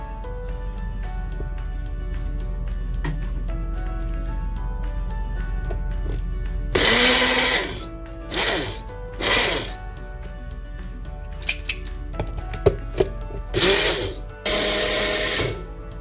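Loud bursts of a blender whirring through a thick paste of yogurt, cashew nut and coconut, several short runs starting and stopping over a steady low hum.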